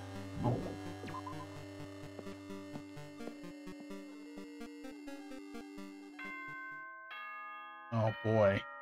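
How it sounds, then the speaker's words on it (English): A doorbell-style ding-dong chime from Danganronpa 2 plays as a bright tonal jingle over sustained game music, clear and up front, with a second burst of tones near the end. "Ding dong, bing bong."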